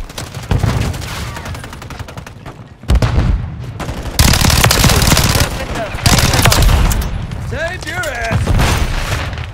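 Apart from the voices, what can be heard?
gunfire from SCAR-L and KRISS Vector in Modern Warfare II video game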